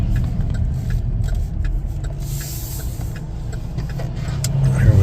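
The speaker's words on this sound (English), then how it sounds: "I'm gonna brake here completely to make a left." Interior road noise of a 2025 Chevrolet Blazer 2LT with cloth seats as it brakes to a full stop and turns left: steady low engine and tyre rumble throughout, swelling slightly near the end, with no talking.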